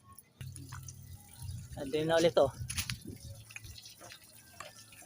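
Water pours and splashes as it drains from a car radiator during flushing, a brief wet gush rising over dripping, while someone speaks nearby.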